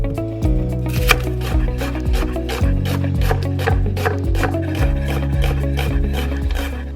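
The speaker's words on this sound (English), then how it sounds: "that took me a long time to chop up all those onions" A knife chops yellow onions in a home kitchen, a quick, uneven run of close, crisp strikes against a cutting board, half buried under steady background music.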